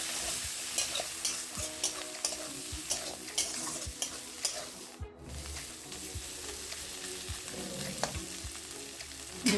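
Onions and ground karkol flesh frying in a pan while being stirred, a steady loud sizzle with repeated scraping strokes of the spoon, close up with no talk.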